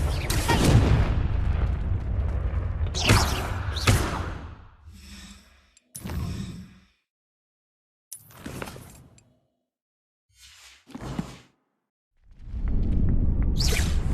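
Confringo blasting spell cast in Hogwarts Legacy on PS5, a booming fiery impact with whooshing bursts amid battle noise, followed by several shorter separate blasts and swishes with quiet gaps, then a louder burst at the end.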